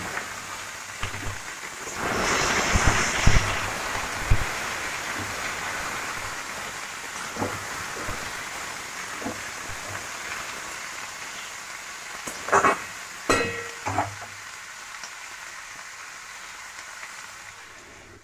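Ridge gourd, potato and onion hit hot oil in a home kitchen pan, letting out a loud burst of steady sizzling that settles into a softer continuous crackle, with a few sharper pops and clatters near the end.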